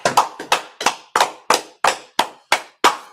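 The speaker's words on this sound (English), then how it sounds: "let's clap it up for Most High in Christ" Steady, deliberate hand clapping from a small audience, about ten sharp claps in an even rhythm, close and distinct with brief silences between them and no talk.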